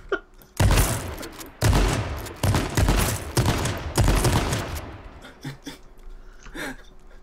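Gunshots in the video game H1Z1: a string of loud, close shots in uneven bursts, the first half heavy and rapid, then thinning into scattered fainter cracks and some movement noise, with no talking.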